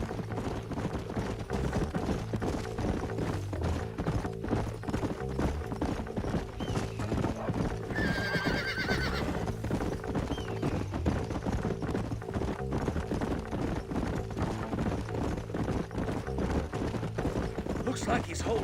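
Horses trotting in Red Dead Redemption, a steady clip-clop of hooves running throughout with a brief whinny midway, set against a continuous game music and ambience bed.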